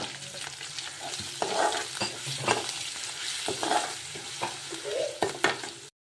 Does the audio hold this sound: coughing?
no